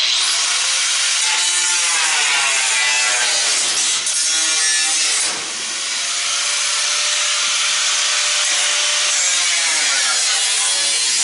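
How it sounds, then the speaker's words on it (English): Angle grinder cutting through the sheet-metal body of a clothes dryer being scrapped, a loud, continuous harsh whine with shifting pitch that runs alone for about eleven seconds, briefly dipping midway before resuming. "I'll make a cut here and here with the angle grinder"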